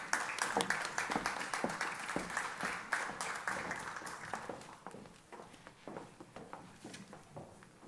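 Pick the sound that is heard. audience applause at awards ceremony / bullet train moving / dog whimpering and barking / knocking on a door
audience applause at awards ceremony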